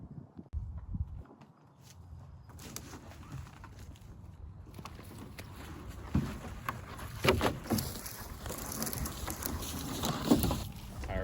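Wind gusts across an open field where trees are being felled for firewood, making a rough, buffeting rumble that grows louder and busier over the seconds. It is mixed with scattered rustles and footstep-like knocks, and no one speaks.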